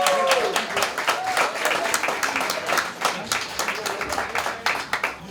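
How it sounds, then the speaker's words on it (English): A crowd at an autism charity award gala applauds attorney Andrew Meltzer as he comes to the stage, steady dense clapping with scattered voices and cheers mixed in. "Give him a round of applause."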